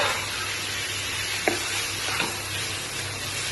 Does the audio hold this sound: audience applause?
no